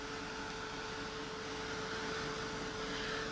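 A heat tool blows a steady, even whir of hot air while drying an altered wood slice craft piece, continuous and close, with no other sounds and no voices.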